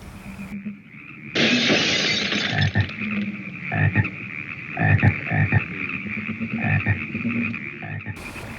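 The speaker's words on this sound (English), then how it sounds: "the great tree frogs leapt from the trees and bellowed and croaked like there was no tomorrow" Deep, resonant frog croaks in a repeating pulse, mixed with a bright, steady hiss and a high ringing tone.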